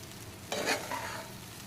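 Cooked rice being stir-fried in a pan for egg fried rice, with a brief scraping toss and a burst of sizzle midway through an otherwise quiet, low crackle.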